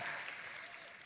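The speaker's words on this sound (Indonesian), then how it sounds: "Tepuk tangannya pula yang paling meriah" Church congregation applause during a sermon, a brief wash of clapping that starts loud and tapers off, heard faintly at low level.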